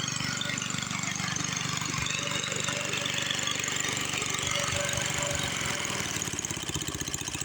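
A Jari mower's engine idles steadily after warming up, a continuous close mid-pitched chugging drone with a fast regular pulse that stays loud and even throughout, no voices heard.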